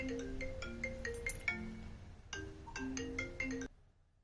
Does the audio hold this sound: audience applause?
no